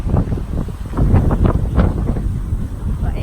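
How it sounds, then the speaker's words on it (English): Strong wind blows through a garden in autumn, roaring steadily and buffeting the microphone with continuous low gusts, close and loud, with no voices. "It's just real strong winds today."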